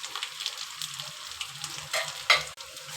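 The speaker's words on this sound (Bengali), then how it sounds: "এবার এটাকেও 5 থেকে 6 মিনিট ভালো করে ভেজে নেব।" Ground spices frying in oil with potato and pointed gourd for a Bengali aloo potol dish, a soft continuous sizzle with light stirring scrapes and a sharper clatter near the end, close and fairly quiet.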